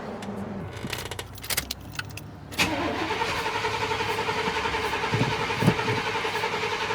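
A 1992 Chevy Blazer with fuel injection has its keys jingle briefly, then the starter cranks in a steady, rhythmic churn for several seconds, loud and close, without the engine catching.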